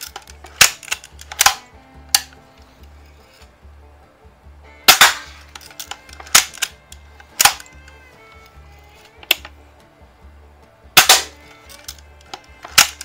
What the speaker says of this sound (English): Pretty darn accurate for just a little weak BB gun. Shooting the Hornaday Black Diamonds.